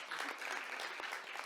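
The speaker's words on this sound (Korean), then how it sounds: "그런 의미에서도 박수를 한 번 더 쳐주시면 좋겠습니다." Audience applause at an urban agriculture symposium on companion-plant policy, a steady dense clapping from a crowd filling the hall for the whole stretch, fairly close and even in loudness.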